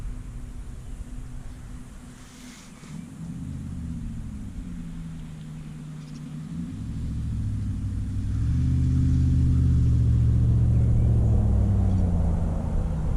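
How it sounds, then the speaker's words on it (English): A loud truck passes near an outdoor metal-detecting dig at an old 1920s homesite, its low engine rumble swelling steadily from a faint drone to a heavy, close roar toward the end. "Somebody in a loud truck going by."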